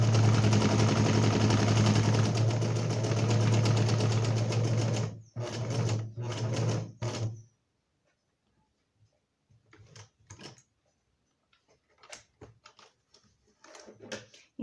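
Sewing machine running a straight seam in fabric held close under the presser foot, a loud, rapid, steady mechanical hum that stops abruptly, followed by a few short bursts and quiet handling clicks.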